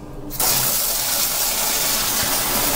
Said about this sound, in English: So now filling the bilge